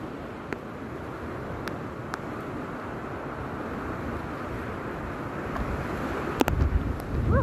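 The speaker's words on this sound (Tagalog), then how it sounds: "Lakas ng hangin oh!" Steady wind rushing and buffeting the microphone at the Twin Peaks stairs on the Wilson Trail, Hong Kong, with a few faint clicks, turning gustier toward the end.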